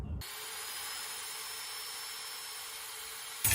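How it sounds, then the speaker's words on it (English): A steady, high-pitched whine of a power drill boring a hole through a pot handle, running continuously for several seconds between brief bursts of louder noise. "we're going to actually drill a hole through the handle itself"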